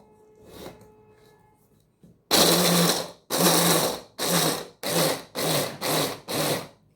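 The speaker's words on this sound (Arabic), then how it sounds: "نبدا نخيط شويه" A sewing machine stitches fabric in six loud, close bursts of rapid mechanical whirring, each roughly half a second to a second long with short pauses between, after a quiet lead-in.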